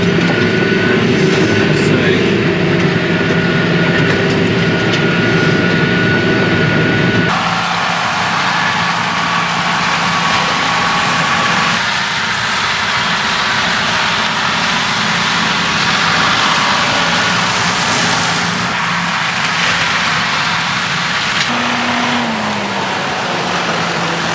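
Tractor engine running steadily at 1000 RPM while spraying herbicide, a loud continuous drone close by with a noticeable shift in tone partway through and little letting up.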